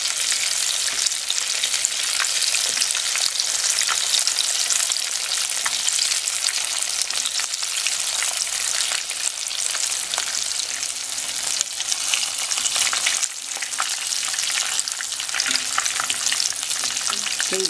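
Breaded shrimp deep frying in oil, a dense, continuous hissing crackle that stays loud and close throughout without talk.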